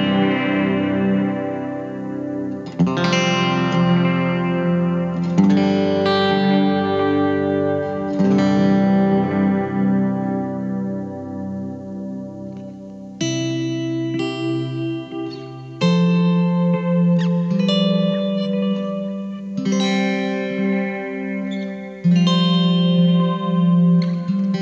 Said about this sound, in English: now I'm going to add the delay and reverb